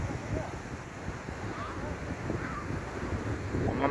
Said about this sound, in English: See the big waves breaking now